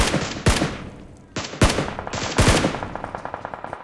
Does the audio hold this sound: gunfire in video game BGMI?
yes